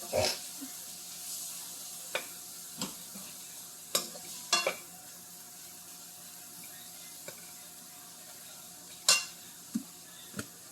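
Ginger and garlic sautéing in oil for a spicy chicken gravy, with a steady low sizzle and occasional sharp clicks and scrapes of a spoon stirring in the pan, no talk.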